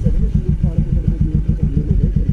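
A motorcycle engine runs steadily close by, its exhaust giving a rapid, even low thumping pulse with some clatter. No one speaks over it.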